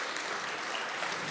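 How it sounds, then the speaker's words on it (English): An audience at the 8th Nigeria Diaspora Investment Summit applauds after a keynote speech, a dense, even clapping that fills the hall throughout with no voices over it. "Please give him a round of applause."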